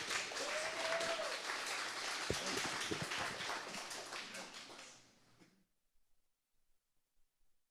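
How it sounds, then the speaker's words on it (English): Audience applause for a conference speaker, a dense crowd of clapping that holds for about five seconds, then thins to a few scattered claps and fades into near silence. "So everybody give Camilo a round of applause."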